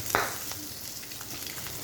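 Deem (eggs) frying in a pan for nakol deem, a soft continuous sizzle with a brief louder scrape or flip near the start, quiet and close.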